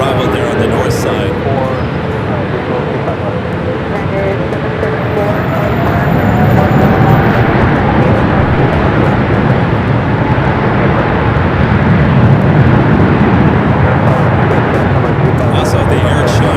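An Air China Boeing 777 rolls down the runway at Los Angeles airport, building a broad, loud engine roar that rises midway, while a voice talks over it throughout.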